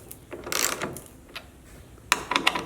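A hand ratchet snugs bolts on a Jeep TJ windshield, giving two short bursts of close, rattling pawl clicks separated by a quiet gap.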